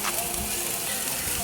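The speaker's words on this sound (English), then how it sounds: "Hear that sizzle?" Pork sizzles steadily on an old country barbecue tabletop grill, a constant hissing crackle at low level with no breaks and no one talking.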